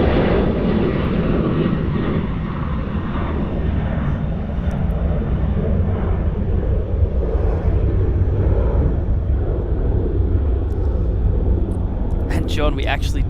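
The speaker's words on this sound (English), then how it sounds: "On departure there we have the Virgin Australia 737-800." A Virgin Australia Boeing 737-800 departs Sydney Airport for the Gold Coast, its engine roar a broad steady rumble at middle distance, with a person talking over it.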